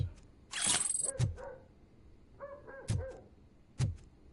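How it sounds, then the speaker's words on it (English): Dog barking inside an apartment in the video game RoboCop: Rogue City, a few separate sharp barks spaced out over several seconds, moderately loud and without talk. "There's a dog barking in someone's apartment. I hear it."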